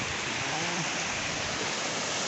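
Steady broadband wash of surf at a beach, continuous and fairly loud throughout with no distinct breaks, no talking over it.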